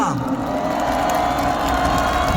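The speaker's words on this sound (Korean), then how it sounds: "형광색 조끼를 입은 자원봉사자분들께 힘찬 격려의 함성 한번 부탁드리겠습니다" A large outdoor political rally crowd gives a loud cheer for volunteers, a roar of shouting voices with a whoop and a sustained tone running beneath it, close and dense for the whole stretch.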